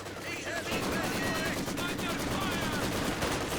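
Machine gun fire on advancing conscripts in Company of Heroes 2, a 2v2 match; sustained rapid rattling bursts mixed with other battle noise, loud and steady throughout, with speech faintly underneath.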